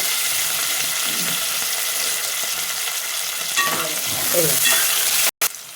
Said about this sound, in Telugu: ఇప్పుడైతే ఇగో క్యారెట్, పచ్చిమిర్చి, ఉల్లిగడ్డ, కలెమాకు అన్నీ వేసేసిన, అన్నీ కలిపేసిన.